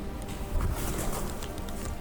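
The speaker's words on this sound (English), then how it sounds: "Yeah, that's some pigeons." Pigeons cooing in a low, continuous murmur, with several soft calls overlapping steadily throughout.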